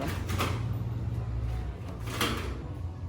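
A newly installed screen door on a main door being tried out, with two clattering knocks and a rattling slide over a steady low hum, heard up close.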